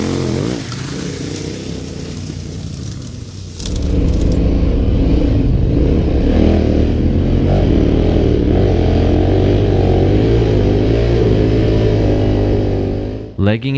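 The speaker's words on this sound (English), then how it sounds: "Legging it down the beach is one of the coolest things you can do on a big adventure bike" A KTM 1190R big adventure motorcycle riding along a beach, its engine droning steadily, then swelling louder and rougher as it accelerates, a continuous close rumble with wind noise over it.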